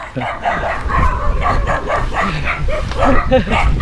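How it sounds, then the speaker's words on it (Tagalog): Several dogs bark and yip in short bursts at middle distance, mixed with steady background noise and someone talking over them. "Yun, may aso. Yan, aso kalaban."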